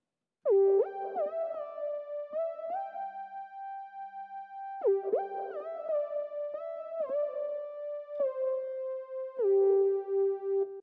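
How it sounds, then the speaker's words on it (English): A soft sine-wave synth lead for an 80s R&B track plays a slow melodic phrase with gliding pitch bends, a pause, then a second phrase, clean and fairly quiet. "It'll be some sort of sine wave sound like this."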